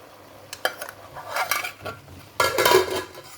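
A lid set onto a cooking pot of cabbage, with several metallic clinks and scrapes of metal on metal, fairly close, then a louder rattling clatter as it settles into place.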